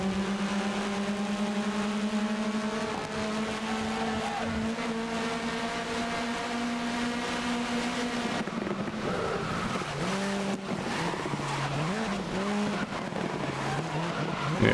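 Race car in GRID (2019) racing game holds a steady high engine whine, then brakes hard into a slow chicane, pitch dropping in stepped downshifts with tyre squeal and wavering revs as it turns, no voices.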